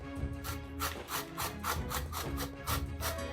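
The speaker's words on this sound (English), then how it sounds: "So I'm just going to shred the zucchini now. I'm going to use this side of my grater." Peeled zucchini scrapes across a box grater in quick, regular rasping strokes, about ten in three seconds, close and fairly quiet.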